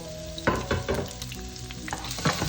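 Chopped garlic fries in a pan while a spatula stirs it, sharp scraping clacks and short bursts of sizzle over a low hiss, close and uneven.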